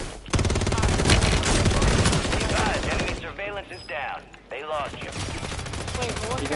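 Rapid automatic gunfire and bursts of shots in Call of Duty, loud and dense through most of the stretch, with brief pauses and players talking over the shooting.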